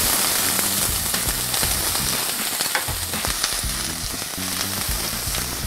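About half a cup of minced onion sizzles and crackles loudly in hot oil in a pan while cooking tortilla soup, a steady dense hiss with scattered pops and stirring scrapes throughout.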